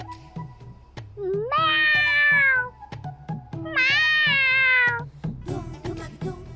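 A cat gives two long, loud, drawn-out meows, with a voice chattering briefly before and after.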